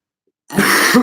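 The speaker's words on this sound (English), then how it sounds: "Sorry, I have a cough if you didn't watch the post-game analysis, so you might hear me cough a bit" A single harsh cough bursts in after half a second of silence, close and loud, followed by a rougher throaty hack at the end.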